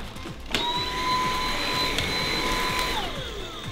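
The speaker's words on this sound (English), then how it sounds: "Okay, let's vacuum now this dirty area." A vacuum cleaner starts abruptly and runs at a steady whine over a dirty floor area, its motor pitch holding and then dropping near the end as it winds down; loud and close, with no talking.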